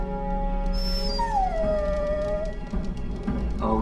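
A dog in Dragon Age: Origins lets out a long, wavering whimpering howl that slides down in pitch over a low ambient game background.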